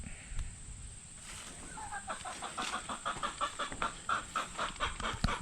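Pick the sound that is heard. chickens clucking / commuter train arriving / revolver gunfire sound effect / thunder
chickens clucking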